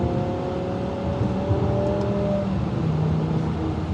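BMW M5 with a V10 engine, revving steadily and loudly from close by, with a sustained engine and exhaust drone and rising harmonic tones over the whole stretch and no talk.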